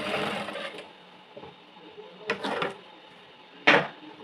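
A sewing machine stitches piping onto a blouse in a few short, separated bursts of mechanical whirring, with quiet pauses between runs and a sharper clatter near the end.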